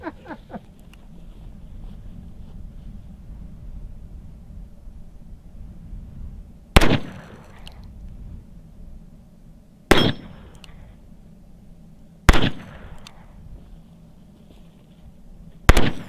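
Four sharp, loud shots from an antique 1800s Smith and Wesson No. 1 .22 Short revolver, spaced a few seconds apart outdoors, each with a brief ringing tail over a low steady background.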